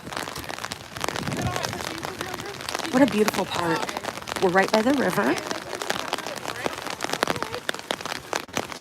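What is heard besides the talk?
rain falling during an outdoor park walk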